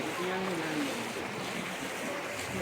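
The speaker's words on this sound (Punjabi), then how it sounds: "ਬਹੁਤ ਤੇਜ਼ੀ ਨਾਲ ਬਹੁਤ ਜ਼ਿਆਦਾ ਜਿਹੜਾ ਸਪੀਡ ਨਾਲ ਪਾਣੀ ਆ ਰਿਹਾ ਜੀ।" Floodwater from a breached canal rushes fast through a village channel after heavy rain, a continuous dense roar of flowing water with a faint murmur of voices underneath.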